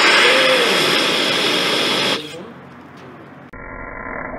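An MHD rocket engine ignites with a loud, roaring hiss that holds steady for about two seconds, then cuts off sharply into quieter residual noise. Someone speaks briefly.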